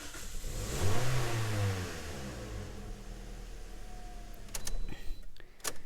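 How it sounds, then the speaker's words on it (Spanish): Car engine cranking and starting during a misfire test for a P0302 cylinder 2 fault, a mid-pitched engine swelling loudly near the start then settling into an uneven running drone, with sharp clicks and knocks near the end. "escuchar qué tal suena el motor cuando le estamos dando a encender"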